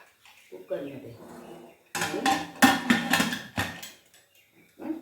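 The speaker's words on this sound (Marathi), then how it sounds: "आणि हा आता डबा ठेवते कुकरमध्ये" A metal tin is set down inside a pressure cooker already holding water on a lit gas stove, making a run of sharp, close metallic clanks and clatters after a stretch of talking, with a voice returning at the end.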